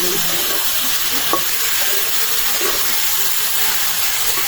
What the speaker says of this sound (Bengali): ওই তেলেই এবার ভাজছি বেশি তেল লাগবে